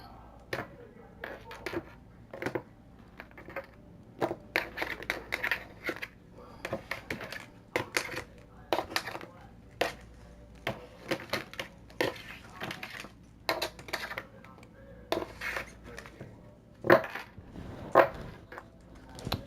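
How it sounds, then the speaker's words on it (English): A deck of tarot cards is shuffled and cut by hand, producing irregular bursts of riffling and slapping card sounds, close and fairly crisp, with short pauses between handfuls and a sharper snap toward the end. "This will be my last shuffle here."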